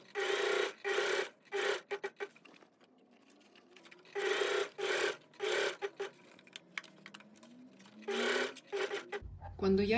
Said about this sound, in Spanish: Y seguimos cosiendo.